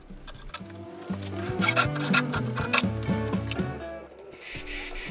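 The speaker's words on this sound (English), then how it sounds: "we're using our Jacob's chuck to hold the sandpaper so we can finish off cleaning up that end grain area" Sandpaper held in a Jacobs chuck rubs against spinning wood end grain on a lathe, a steady close scraping hum with rhythmic ticking over a low motor drone, tapering near the end.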